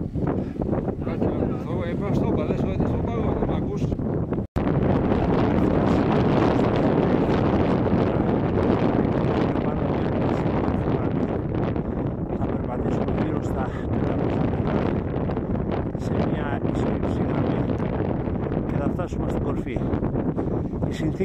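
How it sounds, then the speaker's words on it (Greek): Strong wind gusts buffet the microphone on a snowy winter mountain at minus two degrees, a loud continuous rushing roar with one brief dropout. "Φυσάει"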